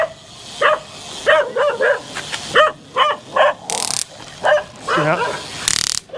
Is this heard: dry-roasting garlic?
no